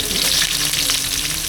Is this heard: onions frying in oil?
yes